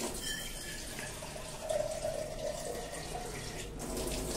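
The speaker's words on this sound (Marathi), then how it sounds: "थोडंसं पाणी कमी पडलं म्हणून मी थोडं टाकते याच्यात" Water poured into a pot of boiling misal curry, a soft steady splashing pour that swells briefly in the middle, heard close over a low bubbling background.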